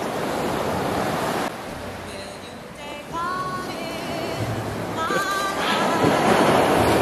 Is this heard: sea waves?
yes